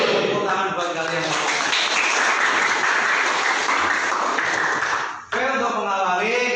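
A class of students applauding in a classroom, a sustained burst of clapping in the middle, with voices speaking before and after it.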